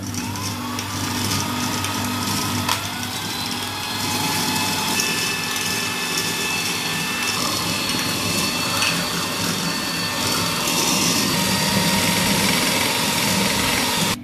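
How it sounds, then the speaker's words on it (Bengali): An electric mixer beats double cream with powdered sugar at high speed, giving a continuous loud, even whine and whir that runs throughout without pause. "এখন এটাকেও আমরা আবার বিট করব হাই স্পিডে।"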